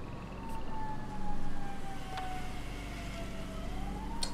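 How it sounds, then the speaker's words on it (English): A distant emergency vehicle siren wails faintly, its slow rising and falling tone drifting under steady background noise from outside, with no talking. "That's a siren."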